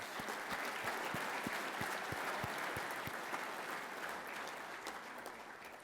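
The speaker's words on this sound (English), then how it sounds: "Let's give them a big round of applause." Conference audience applauding first-time attendees at a firefighters' union legislative conference, a steady dense wash of many clapping hands at moderate distance that holds throughout and slowly thins toward the end.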